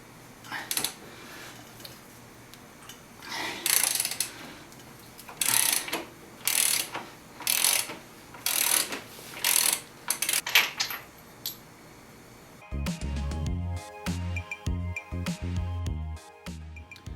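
A ratchet fitted with a 22 socket loosens the swing arm nut on a 1992 XJ600 motorcycle. It gives close, loud bursts of clicking in a steady rhythm, then a different, denser mechanical clatter takes over near the end.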